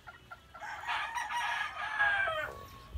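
A Boston Roundhead rooster lets out one loud, nearby crow lasting over a second, with quieter clucks and yard noise before and after.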